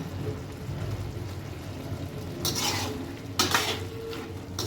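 Fried pumpkin pieces dropped into a pan of cooking greens and stirred, a low simmering bubble with two sharp clatters of spoon and pan against a steady background hum.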